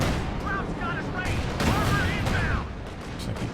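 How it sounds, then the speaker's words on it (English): Light artillery barrage in Company of Heroes 2, a dense rumbling spread of distant shell impacts and gunfire that swells around the middle, with a voice speaking over it. "I don't know if he even noticed that light artillery barrage was coming in"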